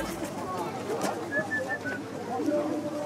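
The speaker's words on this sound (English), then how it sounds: "Are you gonna try to catch a bird or what?" Pigeons close by outdoors in Switzerland, soft cooing and faint chirps amid a busy background of people talking and general ambient noise.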